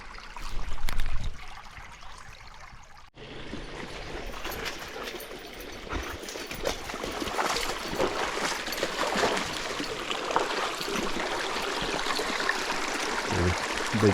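Water in a low creek at a small-scale gold mining site gurgles and trickles steadily, a continuous close wash of flowing sound after a brief louder thump at the start.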